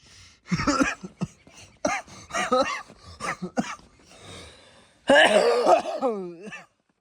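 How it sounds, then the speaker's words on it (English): A burst of harsh coughing and throat clearing, close and fairly loud, broken into short bouts with a longer rough cough near the end. "Excuse my terrible cough."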